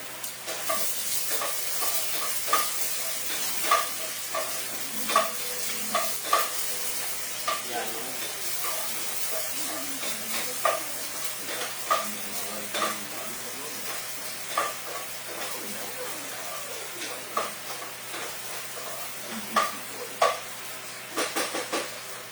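Onions sautéing in a pot for chicken tinola, a continuous hissing sizzle broken by frequent clinks and scrapes of a ladle against the pot, close and steady throughout.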